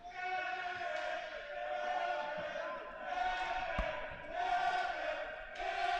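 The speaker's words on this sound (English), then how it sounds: "As the crowd shouts Nevin in derision of netminder Nevin Dyer as the puck rolled in" A college hockey crowd in an arena, University of Delaware against Ohio State, chants a goalie's name, Nevin, in mocking unison after a goal. The sustained crowd roar swells and falls in repeated waves over about six seconds.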